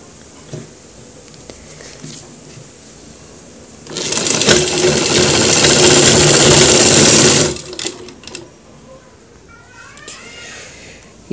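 A sewing machine stitching a chirwa cross pocket on a pair of pants runs in one loud, steady burst of about three and a half seconds, with quiet handling noises before and after.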